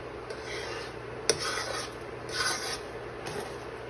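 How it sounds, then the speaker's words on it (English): Spoon scraping and stirring thick condensed milk candy with bacon and spices in a pot, heard as a continuous close rasping rub with a sharp clink near the start and a few louder scraping swells. "We're gonna keep mixing, keep stirring until it caramelizes."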